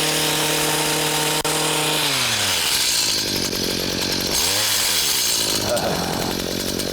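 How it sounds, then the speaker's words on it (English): A motorized hedge trimmer cutting back standard roses, its engine buzzing loud and close, pitch dipping and rising as it bites into the stems. "use the hedge trimmer to prune the standard roses"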